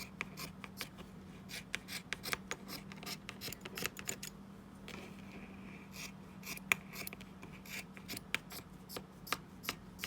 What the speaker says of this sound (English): you just cut your scarf all up into strips